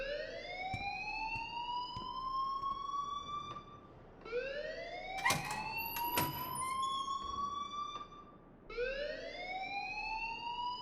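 Fire alarm wailing in the Life Is Strange video game, a loud rising electronic tone repeating in three long sweeps with sharp clicks and clatter between, no talk over it.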